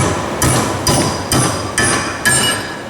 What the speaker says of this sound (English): give her a tappy tap tap